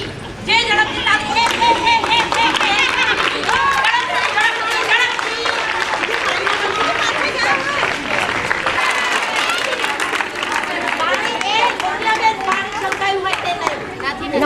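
A crowd of people claps hands quickly and continuously at a youth festival, dense and loud throughout, with voices talking and calling over the applause.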